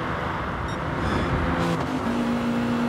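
Race cars in Gran Turismo Sport on the Tokyo Expressway central outer loop, GR.3 class: a steady, dense engine drone with a car pulling past, close and continuous, with no talk.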